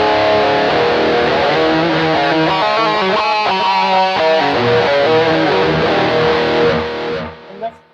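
Overdriven electric guitar through a Tube Screamer pedal into a BOSS eBand JS-10, playing a crunchy 1980s hard-rock style riff with chords and single notes, loud and alone, then cut off with a brief fading ring.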